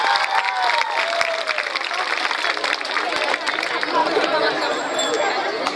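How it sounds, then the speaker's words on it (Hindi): Students at a school function applaud steadily, a dense wash of clapping mixed with crowd chatter and murmuring throughout, with faint clinks and whistle-like tones in the background. "स्टूडेंट्स जोरदार तालियां।"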